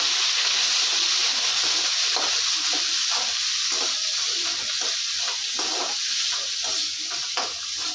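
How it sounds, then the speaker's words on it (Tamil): Tomato sautéing in a pan with oil for black sesame chutney, a steady loud sizzle with faint stirring scrapes throughout, no voices. "இது கொஞ்சம் நல்லா வதங்கி வரட்டும்"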